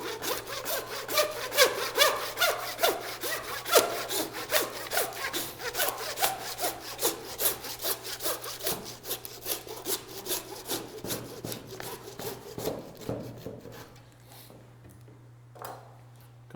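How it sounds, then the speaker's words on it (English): A hand saw works down through bison front-quarter short ribs at a butcher's bench, a steady series of rasping back-and-forth strokes close to the microphone that slow and fade near the end. "we're going to take our saw and we're going to work our way down through these ribs"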